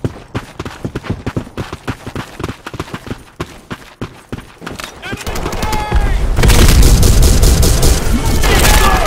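Gunfire and a grenade explosion in the video game Black Squad: a rapid, evenly spaced run of close shots gives way to a louder, sustained blast and roar that stays heavy to the end, with no talk.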